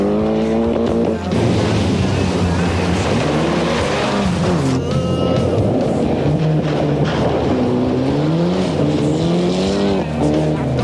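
Group N rally cars racing flat out on fast gravel forest roads, engines revving loudly and climbing through gear changes, with repeated pitch sweeps as cars pass close by, and a commentator speaking over the noise.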